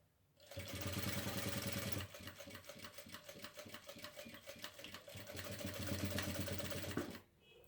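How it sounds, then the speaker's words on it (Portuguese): A sewing machine stitches bias binding on a baby backpack, running in a fast steady whirr that pauses briefly, then resumes with a short reverse-stitch burst before stopping; quiet and close, with no talking. "finalizando a costura com um retrocesso"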